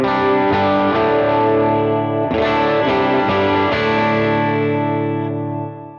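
A sustained, heavily effected electric guitar chord through an AC30 amp model rings out loud and full with shimmering modulation, changes once midway, then fades at the end.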